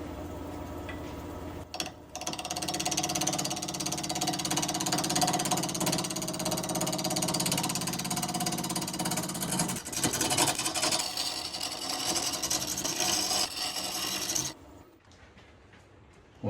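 Black oak knot spinning on a wood lathe at just over 1,000 RPM under a carbide tool, giving a steady loud mechanical whir and chatter that runs continuously before cutting off near the end.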